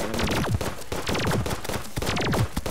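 Repeated firing in Terraria during a fight with The Twins boss, quick rhythmic shots with descending zapping tones recurring in regular waves over a busy game background.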